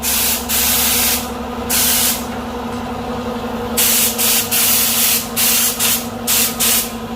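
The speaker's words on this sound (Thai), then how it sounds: "ใช้น้ำมันเกียร์แบบเหนียวเหนียวหนึบหนึบ พ่นไป เพื่อป้องกันสนิม" Sticky gear oil sprayed onto the underside of a Toyota Revo pickup to prevent rust, heard as repeated loud hissing bursts of varying length, some long and some short, over a steady low mechanical hum.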